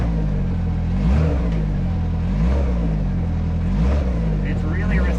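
A brand-new Kawasaki Teryx5 H2 side-by-side drives in low range, its engine humming loud and close with rhythmic rises and falls in revs. A voice talks over it.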